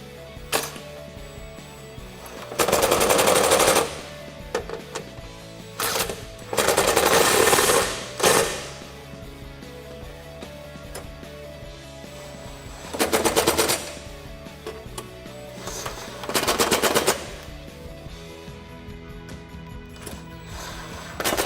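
Short bursts of a power tool driving bolts through a 13 mm socket while mounting a WINBO side step on a Jeep Gladiator JT, four loud whirring runs of about a second each separated by quieter pauses.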